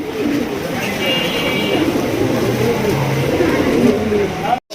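Soft pigeon cooing murmurs steadily under continuous background chatter and a faint passing vehicle, ending with a brief thump.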